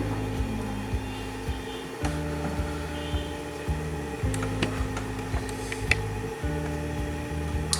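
A three-phase induction motor runs at around 735 rpm with a steady low mechanical hum and faint periodic knocks and clicks, close and constant throughout.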